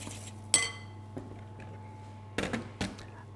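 Light soya sauce stirred into a vegan cashew and date slaw in a glass bowl, giving a sharp clink near the start, a softer tap, then a cluster of close scraping knocks toward the end over a steady low hum.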